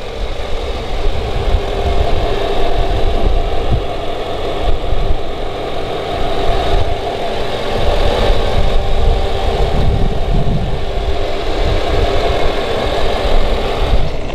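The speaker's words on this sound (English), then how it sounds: "It's a 5-liter V8." A 1999 Mercedes-Benz SL500's 5-liter V8 idles steadily up close, a loud low rumble with an even, slightly lumpy throb throughout and no speech.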